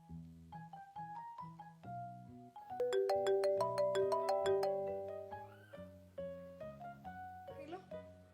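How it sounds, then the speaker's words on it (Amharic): An incoming call on a mobile phone in a drama scene brings a melodic ringtone that plays clearly in stepped tones, swells into a bright, dense passage in the middle, then carries on alone at moderate volume. "አንተ ደግሞ ማን ደውላለህ?"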